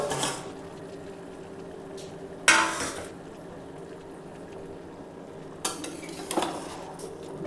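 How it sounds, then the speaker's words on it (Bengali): A lid comes off a pot of chicken korma with potatoes, followed by spoon-on-pot scrapes and stirring clatters in short bursts, with low background hiss between them and no talking. "ঢাকাটা খুলে ভালো করে একবার নাড়িয়ে নিচ্ছি।"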